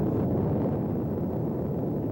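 A sudden gust of wind roars across the microphone in a steady, low, buffeting rush, moderately loud and with no voices.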